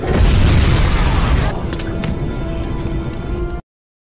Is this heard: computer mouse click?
no